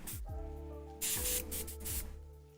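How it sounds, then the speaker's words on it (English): Harder & Steenbeck Infinity airbrush with its end cap removed, releasing bursts of compressed air as a steady close hiss that swells and fades several times over a low electrical hum. "Plug in some air to the old Infinity."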